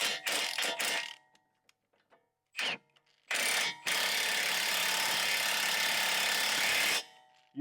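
An impact wrench hammers in short bursts, then runs in one long, loud, steady rattling stretch, tightening the axle on a 2006–2011 eighth-generation Honda Civic wheel bearing job until it starts to struggle.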